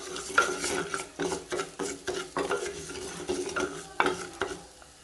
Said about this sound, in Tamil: சிறுபருப்பை லேசாக வாசம் வர அளவுக்கு வறுத்துக்கலாம்.